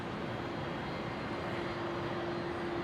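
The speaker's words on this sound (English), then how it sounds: "The 330-200, which will be heading to Singapore" A French Airbus A330-200 MRTT tanker departing Brisbane International gives a steady, distant jet roar with a faint whine, continuous and unbroken.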